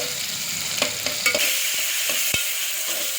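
Spices frying with garam masala in a pan, a steady close sizzling hiss with several sharp spoon scrapes and taps as it is stirred.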